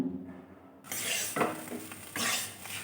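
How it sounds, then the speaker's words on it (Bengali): Bottle gourd frying in a pan, stirred with a utensil: after a near-silent start, loud scraping and clattering strokes of metal on the pan come in bursts over a soft sizzle, close up. "আমি ভালোভাবে ভেজে নিচ্ছি এবং লাউটা খুব সুন্দর করে ভেজে নিতে হবে"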